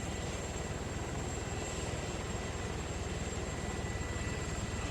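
Stealth attack helicopter in the video game Arma 3 drones steadily with a continuous rotor and engine roar, a constant mid-level hum filling the scene with no voices.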